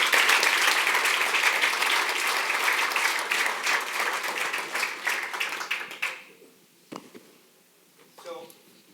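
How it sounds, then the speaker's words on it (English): An audience at an economic forecast event applauds the panelists, a dense, loud burst of clapping that fades out over about six seconds, followed by a speaker talking briefly. "a round of applause for them once again"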